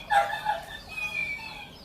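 A rooster gives short fowl calls, a couple of brief squawks followed by a fainter drawn-out vocalization, heard close and alone.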